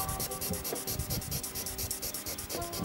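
Wet sanding car paint on a Mercedes CLK 430 V8 with 2000-grit waterproof paper, a quiet rhythmic rubbing of back-and-forth strokes at a steady pace, close and soft.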